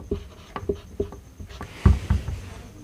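A pen writes the closing of an informal letter on paper. Scratchy strokes and light taps come in short irregular bursts, close and quiet, followed by a couple of duller knocks.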